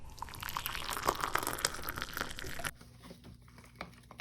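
Water is poured into a salmon glaze sauce cooking in a pan, giving soft trickling and dripping sounds with some crinkly sizzle. The sound is moderately close and fades to a quieter simmer partway through.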